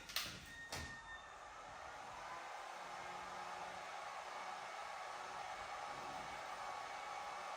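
A heat gun blows steadily on vinyl wrap being stretched over a Suzuki Swift, a constant broadband rushing hiss that holds even for several seconds, preceded by a couple of short knocks.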